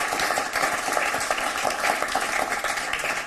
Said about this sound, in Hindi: एक बार जोरदार तालियां आपकी उठें।